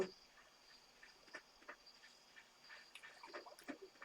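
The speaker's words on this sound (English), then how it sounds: "Little chirps and froggy blurbs," Soft summer-night ambience from the Stardew Valley video game: scattered insect chirps and little frog croaks popping up against a faint steady high buzz, quiet and close with no talking.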